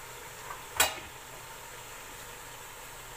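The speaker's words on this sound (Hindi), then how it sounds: "और चिकन को मसालों के साथ आप अच्छी तरह भूनें।" Chicken fries in a pot with ground chili, coriander and turmeric for Lahori nihari, giving a quiet, steady sizzle broken by one sharp, brief stirring scrape near the start.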